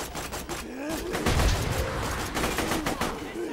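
Rapid gunfire rattles through a Borderlands 2 firefight, a steady stream of close, sharp shots layered over game effects and background music, with a voice speaking intermittently.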